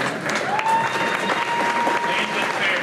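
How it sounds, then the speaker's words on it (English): Audience at an 8th grade awards ceremony applauding steadily, a dense wash of clapping throughout with faint voices mixed in. "let's clap for Jasmine."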